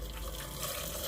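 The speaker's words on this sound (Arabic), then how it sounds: "اما احطه بس الميه السخنه الاول اهي" Hot water pours onto fava beans for ful medames, a steady splashing rush that runs unbroken for about a second, fairly quiet and close, with no voices.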